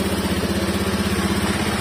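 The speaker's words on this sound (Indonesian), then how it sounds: "Nah, oke, kita hidupin dulu suara motornya ya." A Honda Beat FI scooter engine idles close by after a major service, a steady, even putter with a regular low pulse and no talk over it.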